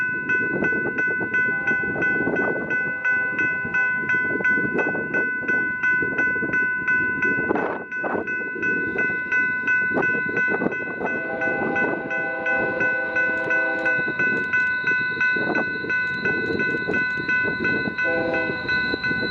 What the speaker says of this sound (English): The first train we would encounter on the Transcon was an eastbound manifest